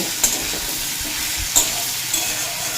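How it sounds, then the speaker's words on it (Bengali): Ridge gourd pieces fry on a high flame, a bright, continuous sizzle broken by a few sharp stirring scrapes, close and loud with no talking. "আগে দুই মিনিট মতো হাই ফ্লেমে ভেজে নেব"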